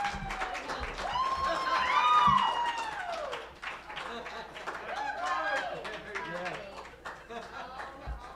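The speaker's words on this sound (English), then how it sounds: "if you can clap really quick while I get changed" An audience claps at the Carson Comedy Club in Reno during a stand-up set, a fast patter of hands that continues steadily while voices call out over it.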